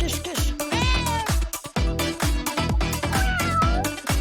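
A cat meows repeatedly in short, loud, closely spaced calls over a steady background of music.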